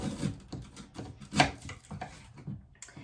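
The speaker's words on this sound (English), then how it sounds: "It's very easy to just cut a few pieces off." Knife cutting pieces of fresh ginger in a pan: a run of soft, uneven chopping and rubbing strokes, close and fairly quiet, with one sharper cut near the middle.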